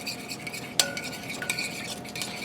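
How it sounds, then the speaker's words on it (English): A spoon stirs loaded baked potato and chicken casserole ingredients in a pan, soft scraping with a sharp metallic clink and a lighter tap, over a faint sizzle, close and without speech. "now let me grab a spoon to stir that around"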